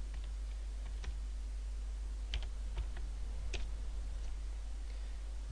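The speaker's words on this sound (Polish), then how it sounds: "Wpisujemy jeden adres." An address is typed on a computer keyboard as a few faint, scattered key clicks spread over several seconds. A constant low hum and hiss sit underneath, and no one speaks.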